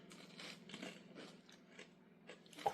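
Crisp, faint bites and chewing on crunchy homemade pancake crackers topped with everything bagel seasoning, several quick crunches in a loose rhythm with a sharper crack near the end.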